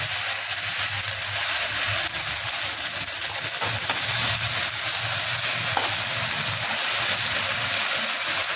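Water spinach (kalmi greens) dropped into a hot pan of frying ingredients sends up a loud, steady sizzling hiss that holds evenly throughout.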